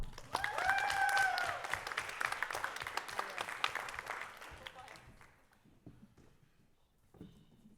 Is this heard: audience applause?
yes